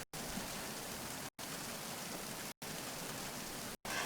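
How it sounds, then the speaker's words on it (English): Steady rain falls in the video game Metal Gear Solid 2, a dense, even hiss that cuts out briefly several times. "I believe I am now hearing rain in my whole head."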